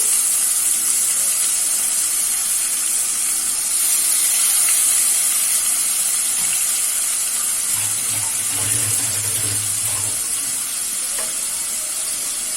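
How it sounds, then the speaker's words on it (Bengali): Tomatoes hit hot spiced oil in a pan for a tel jhal tangra fish curry, giving a loud, continuous sizzle and frying hiss with faint stirring and a brief low hum midway. "এবারে আমি এখানে টমেটোটা দিয়ে দিচ্ছি।"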